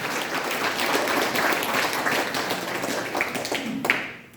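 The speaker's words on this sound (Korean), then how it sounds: "우레와 같은 박수로 감사를 드립니다" Applause from an audience at a Chungcheong patriotic groups' launch ceremony, a full sustained clapping that holds steady and then thins out with a few final claps.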